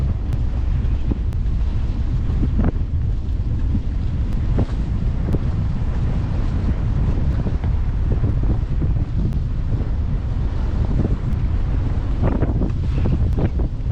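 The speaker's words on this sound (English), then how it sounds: "At the moment we've had gusting 23 knots" Strong wind gusting to 23 knots buffets and roars continuously across the microphone, with occasional gusts and thumps, loud and unbroken throughout.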